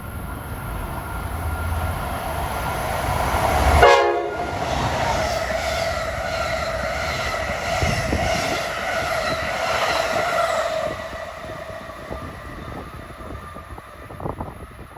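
A Keystone passenger train on the Northeast Corridor at Linden, New Jersey, sounds one loud horn blast, then passes with a sustained rolling rumble and ringing tones that gradually fade.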